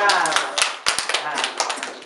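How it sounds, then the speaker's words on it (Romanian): A small crowd claps for a child at a gathering, a burst of scattered, uneven hand claps that carries on over loud talk. "hai să aplaudăm toți, da? Aplauze!"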